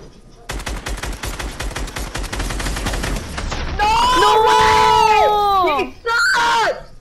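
Rapid automatic gunfire in a battle pass video game fight, a dense rattling burst for several seconds, then a loud excited voice yelling and screaming over the end of the fight.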